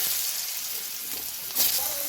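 Cut potatoes hitting hot ghee and oil in a pan for a sabudana pulao, giving a steady, close frying hiss that surges louder partway through.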